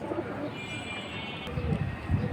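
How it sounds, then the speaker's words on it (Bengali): Caged pigeons at a bird market coo in low, soft rolling bursts against a busy crowd murmur, growing louder toward the end. "খাঁচায় ছিল এখানে কিছু কবুতর দেখাই"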